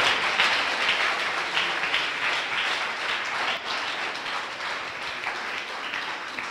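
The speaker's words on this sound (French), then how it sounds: "Give the Lord a big clap of faith." A church congregation at a worship service claps for the Lord, sustained dense applause from many hands, steady and fairly loud throughout with no speech over it.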